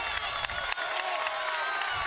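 A basketball crowd cheers and applauds loudly in an arena, a dense continuous roar of voices and clapping with a few sharper claps standing out.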